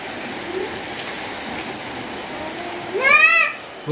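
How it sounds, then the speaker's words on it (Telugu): Steady rain falls across a village, a soft continuous hiss of drops on surfaces, with a brief distant voice-like call rising near the end. "వాన అయితే పడుతుంది"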